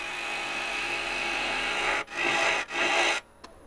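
A gouge cuts into a spinning myrtle wood bowl on a lathe, a loud continuous rasping hiss broken by two brief dips before it stops near the end, leaving quiet motor hum.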